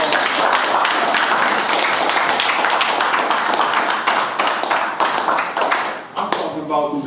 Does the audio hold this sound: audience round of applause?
yes